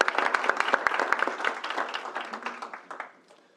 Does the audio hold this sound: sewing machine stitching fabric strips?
no